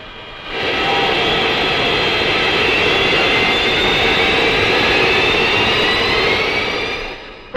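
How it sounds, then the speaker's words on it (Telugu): A jet airplane arriving overhead with a loud, rising roar that swells within the first second, holds as a steady, powerful broadband rumble with a high whine, then fades slightly. "అయ్యో విమానం వచ్చేసింది."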